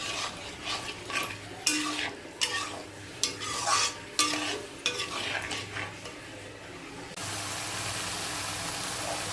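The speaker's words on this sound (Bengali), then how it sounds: "একটু জল দিয়ে দিলাম, এটা হচ্ছে মশলার জল। এটা আগে কষুক।" Spice paste for a flour-fritter vegetable curry sizzles in a pan after a splash of spiced water, with a spatula scraping and stirring in irregular bursts, then the frying settles into a steady, even hiss.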